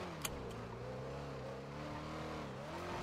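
A car engine drones steadily in a video game, with a sustained mid-level hum of rising and falling tones throughout, beneath faint background talk.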